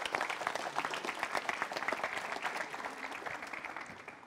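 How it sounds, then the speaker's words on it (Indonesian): Audience applause at a motivational talk show, a steady wash of many hands clapping close and loud, tapering slightly toward the end, with no talking. "Kita berikan tepuk tangan tuh Ibu."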